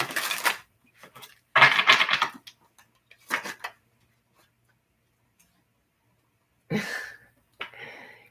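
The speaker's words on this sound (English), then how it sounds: "this will be our last shuffle" Several short bursts of a deck of tarot cards being shuffled close up, crisp riffling and slapping separated by silent pauses, with no talking.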